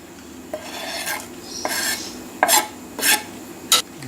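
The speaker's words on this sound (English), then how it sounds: "Give it a bit of a gentle stir." A spoon gently stirring mushroom soup with Malabar spinach leaves in a pot, making several scraping, swishing strokes with light clinks against the side, close and clear with no voices.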